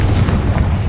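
A Confringo explosive spell blast in Hogwarts Legacy goes off as one loud, booming burst that fills the short moment with dense low rumble and a bright crackling top.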